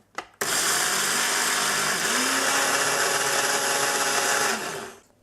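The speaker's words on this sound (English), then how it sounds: "Next we're going to get your oats and I need to blend them." A kitchen blender whirs loudly as it grinds oats into fine flour for a bulking snack, starting after a brief knock and running steadily for about four seconds before spinning down.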